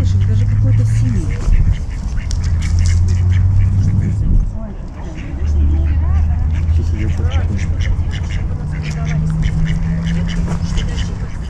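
Ducks quack repeatedly at a park mini zoo in Saint Petersburg's Central Park of Culture and Leisure, fairly close and loud, with people talking throughout and steady outdoor background noise.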